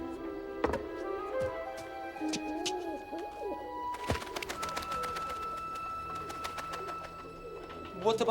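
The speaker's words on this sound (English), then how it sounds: "Grab a pigeon." Caged pigeons coo repeatedly in a busy desert market setting, the soft rolling calls close by under other voices, clatter and bustle.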